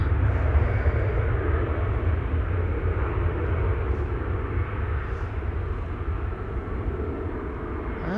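An Air Europa airliner at Amsterdam Schiphol Airport roars as a broad, steady engine rumble, loud and continuous, easing slightly toward the end, with no talking.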